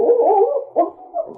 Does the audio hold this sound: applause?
no